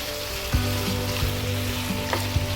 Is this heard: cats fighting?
no